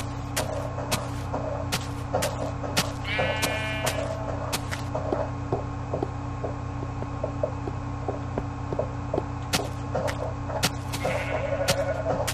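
Sheep bleat in the video game Minecraft, a few short wavering calls over a steady low hum, moderately loud and close, with no talk.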